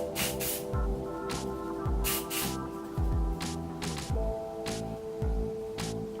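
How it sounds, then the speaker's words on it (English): Hair product sprays onto flipped-over hair in short repeated hissing bursts, about eight close spritzes spaced irregularly, over faint background noise. "flip it over like it says and spray a small amount."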